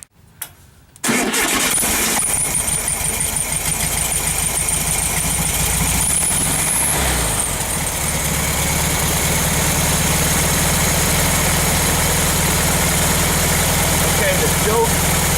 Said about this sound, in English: Now we're going to fire up the engine to see how this carburetor is functioning.